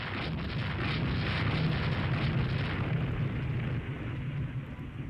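Naval gunfire in the Rule The Waves 3 naval strategy game, 13-inch battleship guns firing: a dense, continuous rumble of booming blasts heard alone, steady and loud throughout.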